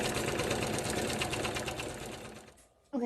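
Embroidery machine stitching a series of small grid tiles in the hoop, a fast rapid needle chatter running steadily before cutting out near the end.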